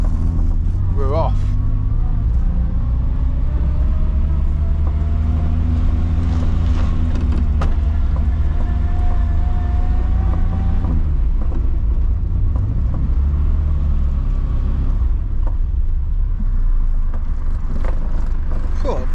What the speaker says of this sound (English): let's go and give it a quick test ride